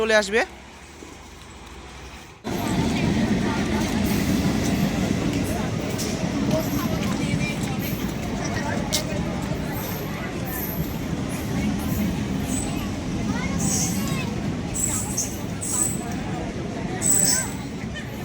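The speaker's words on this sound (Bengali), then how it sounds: "ট্রেন এখন চলে আসলো বন্ধুরা" A train pulls into Beldanga station with a loud, sustained rumbling roar that swells in after a quieter opening and carries on steadily, while a crowd murmurs on the platform.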